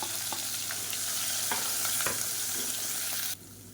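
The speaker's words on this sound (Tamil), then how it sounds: "கடுகு பொரிய ஆரம்பிக்குது" Mustard seeds and spices frying in hot oil with green chillies and ginger garlic paste, a steady loud sizzle with scattered popping crackles close by, cutting off sharply near the end.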